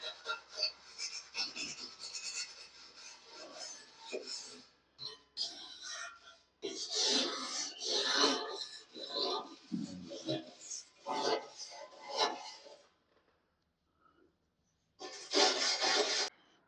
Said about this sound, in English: Got all that sanding done